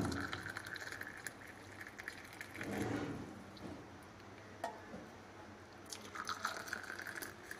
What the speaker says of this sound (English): Switch off gas and now sieve it.